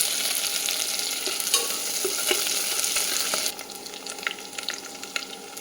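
Mustard seeds, curry leaves, onion, green chilli and garlic fry in oil, a close, continuous sizzle broken by stirring scrapes and small crackling pops, with the frying quieting partway through; no voices.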